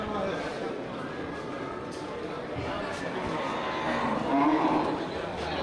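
Aceh cattle low amid a busy Geurugok livestock market, with a steady crowd murmur and a louder moo swelling near the end, while people talk nearby.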